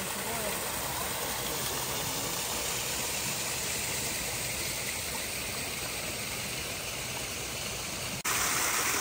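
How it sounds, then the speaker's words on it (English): Runoff water pours steadily in a broad, loud hiss, a small waterfall close by at a rural house in northern Portugal, continuous throughout with a brief dropout near the end. "So this waterfall here shouldn't be here."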